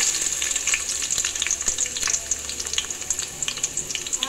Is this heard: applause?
no